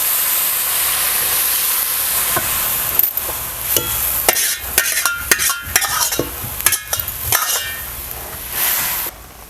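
Moth beans and water for Kolhapuri misal hit a hot pan with a loud sizzle, then a steady hiss of frying with scraping and stirring clatter, no voices.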